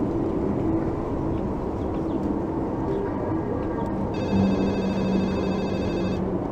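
Phone call placed in the Urban Runner video game, a telephone tone pattern sounding over a dense, steady game ambience, with a higher repeating ring-like tone entering in the last couple of seconds.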